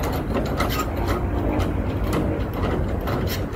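Ratchet strap on a Conestoga trailer tarp being cranked tight, a dense continuous run of rapid mechanical clicks and rattles, close and steady for the whole stretch.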